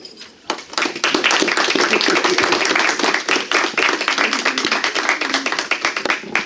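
A church congregation applauds to welcome a reverend to the pulpit, dense steady clapping that starts abruptly and holds loud and close for several seconds before thinning slightly.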